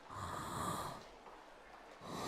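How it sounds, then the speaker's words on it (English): Snore-like breathing from Witch on the Holy Night video game, a soft rasping inhale and snort followed by a quiet pause and another breath, faint and close. "Kinda sounds like a snore."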